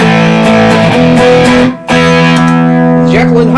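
Sustained, thick electric guitar chords through a Paisley Drive overdrive pedal ring out loud and close, briefly cut off then struck again with gritty distortion.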